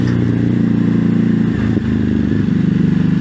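A Ducati Hypermotard 950 SP motorcycle ridden at steady throttle, its engine droning loud and close with a rough, pulsing rumble and a brief dip in the middle, with no voices.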